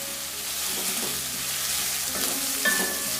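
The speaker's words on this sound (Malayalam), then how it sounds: "ഇനി ഇത് നല്ലോണം ഒന്ന് വഴറ്റിയെടുക്കണം" Sliced onion, small shallots, ginger and curry leaves sautéing in a pan for mutton boti curry give a steady broadband sizzle with scraping stirs, a sharper clatter of the utensil near the end, and no voices.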